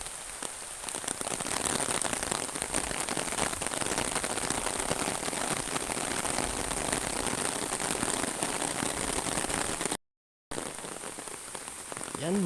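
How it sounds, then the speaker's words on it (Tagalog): Heavy rain pours steadily in a village near the sea, a dense continuous hiss of drops drumming on surfaces at close range, with no voices and only a brief dropout near the end. "Ayan, malakas na ang ulan."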